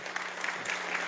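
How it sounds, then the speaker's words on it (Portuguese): A church congregation claps briefly in a dense, steady patter of many hands, moderately quiet and without speech. "Aplaude ao Espírito Santo."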